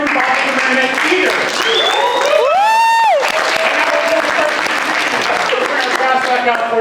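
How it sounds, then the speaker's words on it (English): A theater audience at a marionette show applauds loudly and steadily, cheering mixed in, with a rising whistle-like tone sweeping through the middle and voices carrying throughout. "a big round of applause for Barry Under Your Bed"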